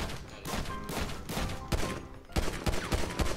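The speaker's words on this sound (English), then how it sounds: "let me shoot him in the head." Rapid gunfire in GTA cracks out in a close, loud burst of several shots aimed at a character's head, thudding over a busy game soundscape.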